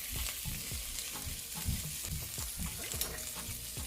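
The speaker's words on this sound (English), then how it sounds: "And I'm just gonna saute these up a little bit." Asparagus sautéing in olive oil in a pan, a close, continuous sizzle and crackle with occasional stirring scrapes.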